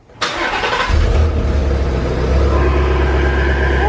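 A twin-turbo Ford Mustang GT350R engine starting: a sharp crank catches and the engine fires into a loud, rumbling idle that holds steady, close and dominant with no talk.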